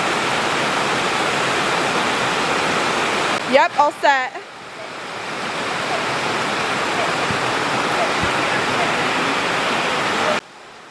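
Hurricane wind and rain roaring as a steady, loud broadband wash throughout, with a brief burst of talking partway through before the storm noise resumes.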